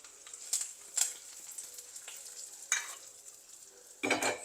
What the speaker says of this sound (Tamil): காஞ்ச மிளகாய் எல்லாம் சேர்த்துட்டேன். இப்போ இது கொஞ்சம் பொரியட்டும்.